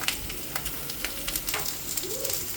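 Eggplant sizzling as it fries in a hot pan, a steady crackling hiss with small pops and stirring scrapes, close and unbroken, with no talking.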